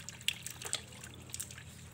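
Water is poured into a plaster of Paris putty mix, producing faint, intermittent trickles and drips that stay quiet throughout.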